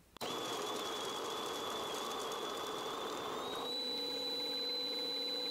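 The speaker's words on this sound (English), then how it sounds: "let's see how much time it takes to grind 17 grams of medium roasted coffee" A sub-$100 electric burr coffee grinder grinding 17 grams of medium roast coffee for espresso: a motor starts abruptly, then a steady loud whirring whine with a slight pitch shift partway through, close and continuous, with no talk.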